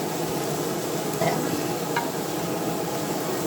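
Steady, dense sizzling of onions sweating in a pan for Lebanese mujadara, with a couple of faint clinks partway through and no voices.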